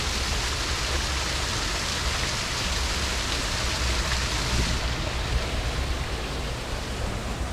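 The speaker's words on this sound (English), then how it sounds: "And we've got a beautiful waterfall here." A waterfall in the Royal Tasmanian Botanical Garden in Hobart gives a constant broadband rush, loud and steady throughout with no talking.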